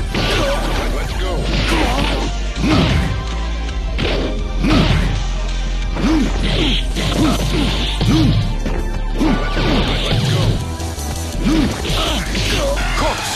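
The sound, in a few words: fighting hits from video game Street Fighter III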